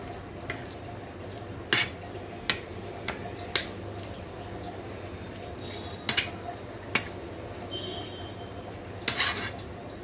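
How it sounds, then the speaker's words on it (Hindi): A spoon clinks sharply and irregularly against a bowl while condensed milk is mixed into a banana sweet dish, over a faint steady background hum. "दो चम्मच मिल्क मेड डाल रही हूँ मैं इसमें। इनको सबको अच्छे से मिक्स कर लूंगी।"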